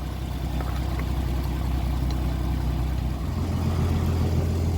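An '82 Ford Granada engine idles smoothly and quietly up close, a steady low rumble holding an even tone throughout, with no voices.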